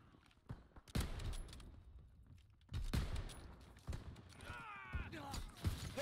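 Shotgun fire in the World War II shooter game Call of Duty WWII: several sharp, loud blasts come at irregular intervals, each followed by clattering game noise, with no talking.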